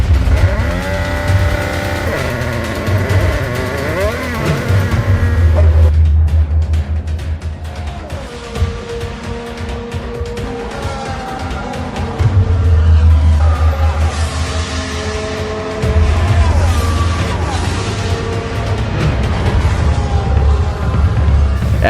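Formula 1 cars in an F1 racing video game, wet race in Australia: loud engine whine and tire noise at a steady level, with deep low rumble bursts and shifting engine tones throughout, no talking.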